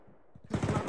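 Machine gun fire from a tank in Arma 3, set in a World War II scenario: a quiet, faint start, then a loud, rapid burst of rhythmic shots close by in the second half.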